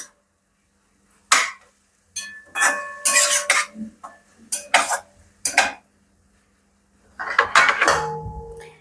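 Mashed paneer is stirred and sautéed in a pan, giving scattered scraping and clinking bursts of a spoon against metal with quiet gaps between, close by.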